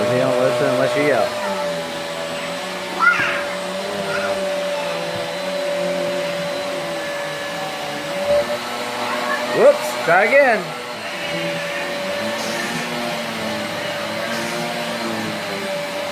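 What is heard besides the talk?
vacuum cleaner run by a small child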